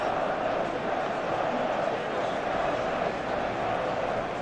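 A stadium crowd from the football video game eFootball PES 2021 roars in a steady, dense wash of noise at a night match, with no distinct cheers or chants standing out.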